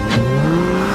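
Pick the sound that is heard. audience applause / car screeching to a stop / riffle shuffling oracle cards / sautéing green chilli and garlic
car screeching to a stop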